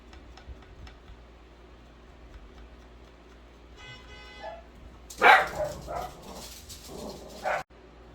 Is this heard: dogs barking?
yes